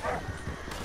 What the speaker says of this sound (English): Why the fuck are the gray wolves out here?